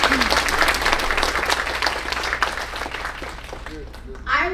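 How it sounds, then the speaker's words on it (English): Audience applause fills a conference hall at the opening of the SAUPO 2023 event: dense, steady clapping close by and fairly loud throughout, easing slightly near the end as a voice begins. "Give them a round of applause."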